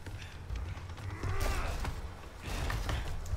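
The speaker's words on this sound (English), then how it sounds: "Can I barricade the door? Looks like it." A door is barricaded in the Resident Evil chainsaw demo game, heard as creaking, grinding and scraping mechanical noises that swell over a low rumble.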